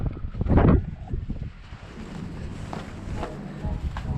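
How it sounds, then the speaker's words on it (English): Strong wind blowing outdoors, a steady rumbling buffet against the microphone with a louder gust early on, then continuing roar with no talking. "the wind's blowing so hard today"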